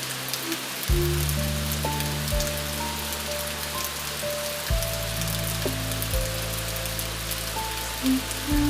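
Calm rain patters steadily on a surface, an even soft hiss beneath low sustained ambient tones, continuous and without voices.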